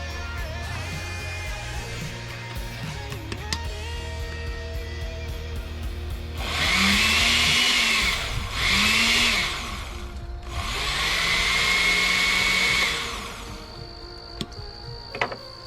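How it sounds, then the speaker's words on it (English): A blender blitzing fire-roasted fresh salsa ingredients in three loud whirring bursts, the motor pitch rising as each pulse spins up, with quieter clicks and handling noises before and after. "we're going to go ahead and blitz that before we add the rest of the ingredients"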